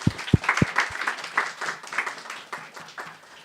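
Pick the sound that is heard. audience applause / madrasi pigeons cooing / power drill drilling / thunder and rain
audience applause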